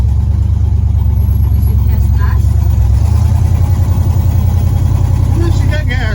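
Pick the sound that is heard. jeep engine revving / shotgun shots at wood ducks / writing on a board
jeep engine revving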